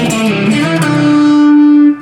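Electric guitar lick, a short distorted phrase of quick notes settling into one sustained, singing note before cutting off.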